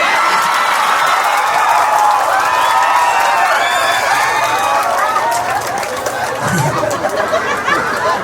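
A crowd at a live entertainment show in San Ildefonso claps and cheers loudly and continuously, with whoops and chatter mixed into the steady applause.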